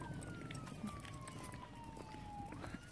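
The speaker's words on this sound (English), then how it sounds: "Do you hear those lovely sirens?" A siren wails in the distance, its pitch holding steady and then sliding, over a steady bed of outdoor traffic noise.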